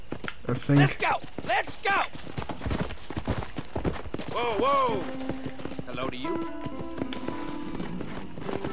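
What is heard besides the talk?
horse hooves clip-clopping in a video game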